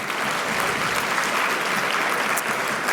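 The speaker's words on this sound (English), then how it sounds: "Please, round of applause for Zerbanu." Steady applause from a crowd at an awards ceremony, dense and continuous throughout with no voices breaking through.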